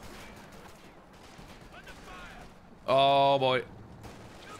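Machine gun fire in the Company of Heroes 2 real-time strategy game: one loud, sustained rattling burst under a commentator's voice, over a low background of game noise.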